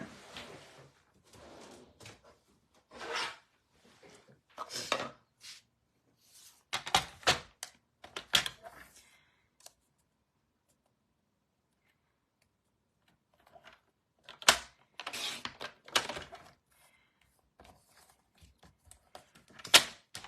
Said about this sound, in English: And I want to cut this straight across. Let me grab my paper trimmer.